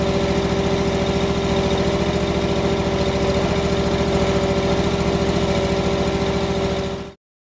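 The engine of a SealMaster SP300 self-propelled seal coat squeegee machine runs at a steady, loud idle with a low rhythmic throb, continuous and close, until it cuts off abruptly near the end.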